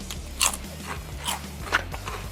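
Crisp crunches from someone biting into homemade potato chips served alongside Portuguese steak and ham, three distinct bites spaced about a second apart, close up over quiet background music.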